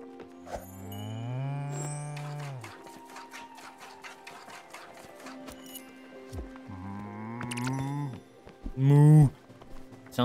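A cow moos in the Spiritfarer video game, several drawn-out low lowing calls spread across the stretch with a louder one near the end, alongside light game sound effects.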